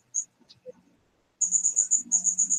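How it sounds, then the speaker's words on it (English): Crickets chirping in a reptile room where they are kept as food for bearded dragons, with a steady, rapid run of high pulsed chirps close by after a few scattered brief sounds. "You hear them crickets? Probably hear them chirping."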